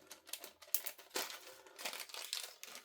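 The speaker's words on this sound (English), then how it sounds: "I'm using my envelope maker." Paper creased and scored on an envelope maker board for handmade cards, a run of close crinkling, scraping strokes and soft taps with short pauses between them, fairly quiet and with no talking.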